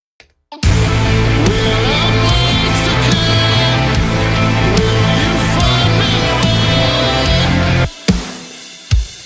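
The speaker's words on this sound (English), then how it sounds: "If they want drum tones that sound like this" A full band plays loud, dense rock music with big punchy drums and heavy guitars, then stops abruptly, leaving a couple of isolated thumps.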